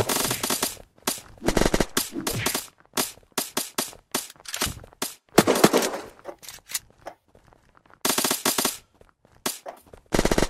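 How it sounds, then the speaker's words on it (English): Unturned gunfire: rapid bursts of automatic shots with short gaps between them, loud and close, some volleys longer than others, with no talk over them. "Oh, I'm getting shot I don't know from where though."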